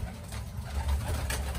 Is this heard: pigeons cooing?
yes